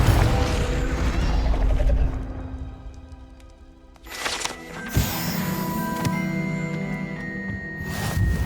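A Confringo blasting spell goes off in the game Hogwarts Legacy, a sudden loud boom and crash at about the middle, set in a busy layer of game sound and mechanical clatter that rumbles on before and after.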